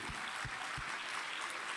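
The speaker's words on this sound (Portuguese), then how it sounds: "Aplauda o Senhor." A church congregation claps in a steady, dense patter. The sound is faint and distant, filling the large space evenly, with a few low thumps near the start.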